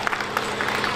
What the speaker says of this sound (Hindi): तालियां होनी चाहिए इस बच्चे के लिए